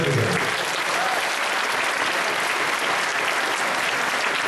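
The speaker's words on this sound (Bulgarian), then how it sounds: "Моля вашите аплодисменти." Dense, loud audience applause at a school ceremony, a continuous wash of many hands clapping that holds steady from start to finish.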